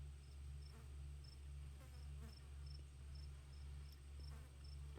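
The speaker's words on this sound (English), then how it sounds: "why is the sound like this weird buzzing of flies?" Flies buzz in the video game Scarlet Hollow, a quiet continuous insect drone with a low hum underneath and regular faint chirping pulses.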